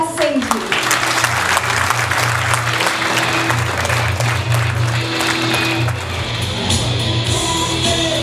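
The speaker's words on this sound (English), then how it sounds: "please put your hands together louder for the flying Sikh" Audience applause welcoming the chief guest, Padma Shri Milkha Singh, at a school reading-initiative event: loud, dense clapping from a large crowd, sustained throughout with a low music bed and occasional shouts underneath.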